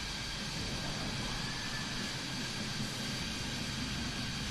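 Jet engines on F-14 Tomcat and F/A-18 Super Hornet aircraft spooling up at an air force base in Microsoft Flight Simulator, a steady, loud, broadband roar that holds throughout with no talking.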